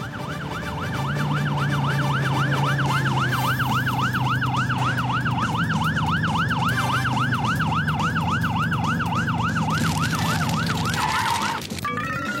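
A fire engine siren wails steadily for a dozen seconds, its fast rising and falling tone loud and close over a low engine rumble, with no voices.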